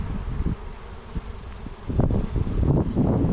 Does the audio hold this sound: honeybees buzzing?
yes